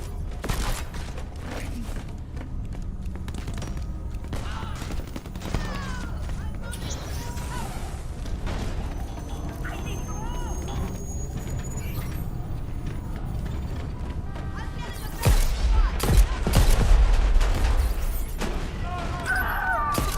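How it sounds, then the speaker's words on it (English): The Conqueror hand cannon fires in Crackdown 3, with heavy, sharp shots clustered late among continuous mechanical clanks, whirs and game sound effects. "The Conqueror, a true hand cannon. Each slug packs a hell of a punch."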